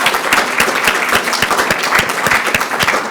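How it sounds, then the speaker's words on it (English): An audience at a briefing on the repression of Christianity in Armenia breaks into applause, many hands clapping in a busy, continuous patter with some sharp individual claps standing out, steady for several seconds with no voices. "Let's give them a round of applause."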